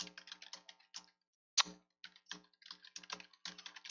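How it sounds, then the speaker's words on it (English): Computer keyboard typing in quick, light bursts of clicks, close and fairly quiet, broken by a short pause and one sharper click. "my keyboard is bouncing around over here"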